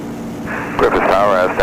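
A Piper Aztec airplane comes in to land on runway 33 at Griffiss International, its engines giving a steady, moderately loud drone with a voice talking over it for most of the clip.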